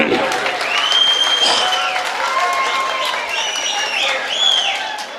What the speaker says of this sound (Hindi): पढ़ा जाए एक मरतबा ताली बजाकर इजाजत दे आप लोग